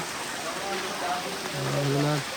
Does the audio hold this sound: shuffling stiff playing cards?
no